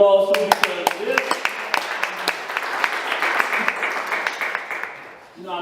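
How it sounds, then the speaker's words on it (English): An audience applauds at a talk in Soweto, a brisk burst of clapping that swells and then fades, with a speaker's voice heard briefly at the start and end. "Can we give her a round of applause too?"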